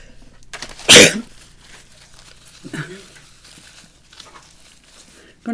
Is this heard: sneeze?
yes